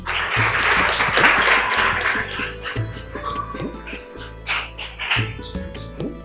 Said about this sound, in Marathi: मुस्तफासाठी जोरदार टाळ्या